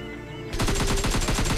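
Rapid automatic gunfire bursts out in PUBG Mobile Lite after a brief quiet lead-in, a fast regular stream of shots, fairly close and steady.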